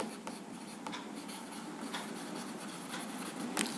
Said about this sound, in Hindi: यहाँ मैं लिखता हूँ डायपोल मोमेंट